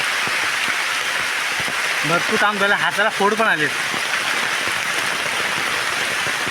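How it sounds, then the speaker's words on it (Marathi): Steady rain pours down in a constant broad hiss over a cashew orchard, with a voice speaking briefly partway through. "पाऊस लागतो आहे"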